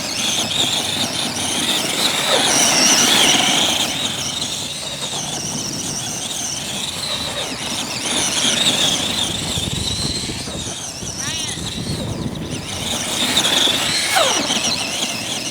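A 1/10 scale Arrma Gorgon RC monster truck runs outdoors with a high electric motor whine that swells and fades as it speeds up and slows, moderately close and without talk.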